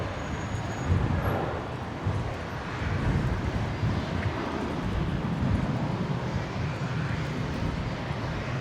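An airliner landing on runway 01 right at Brisbane International Airport: a broad, steady, distant jet roar with low rumble, continuous and even throughout with no voices.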